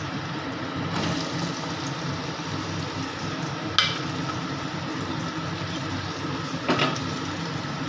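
Cut potatoes for matar ghugni fry in a pan with a steady sizzle, broken by a few sharp clinks of stirring.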